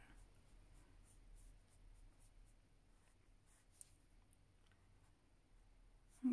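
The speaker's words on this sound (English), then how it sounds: "I'm just using the side of the super tip now to go up this long section here" Marker pen tip, used on its side, sliding along a long stretch of paper in an adult colouring session, giving a steady faint scratchy drawing sound with light strokes throughout and no talk.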